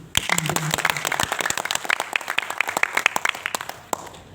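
Audience applause at an NU award presentation in East Java, dense sharp handclaps from a crowd sustained close and loud, thinning slightly near the end, with a brief voice early on.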